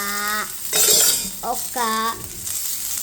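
Sweetcorn frying in a pan is stirred. A couple of short, bright scraping bursts alternate with brief voiced, tonal sounds, all at moderate loudness.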